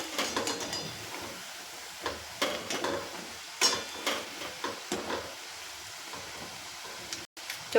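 Poha vada deep-frying in hot oil, a steady crackling sizzle with scattered sharper pops and brief stirring clatter throughout, close and moderately loud, no talking.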